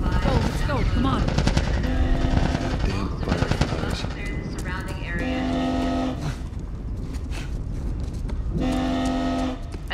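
Rapid bursts of automatic gunfire rattle during a firefight in the video game The Last of Us, dense and loud over a rumbling background, with a steady droning tone surfacing in between.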